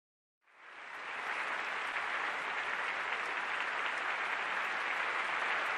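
Audience applause in a visual novel game, starting abruptly after a brief silence and holding as a dense, even clapping wash with no talking over it.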